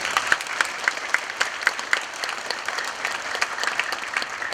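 Applause from an audience at a lecture on national identity and independence, a sustained, even patter of many hands clapping, loud and close, with no speech over it.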